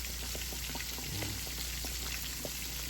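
Hot oil frying fish and frog legs, with a steady close sizzle and scattered small pops and crackles running throughout, nobody speaking.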